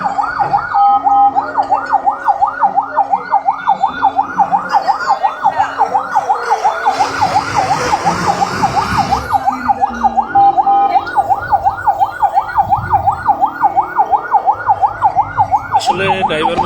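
An ambulance siren wails continuously in a steady, fast rising-and-falling pattern on the Dhaka–Chittagong highway at a crash scene, loud and near, with traffic rumble and brief voices underneath.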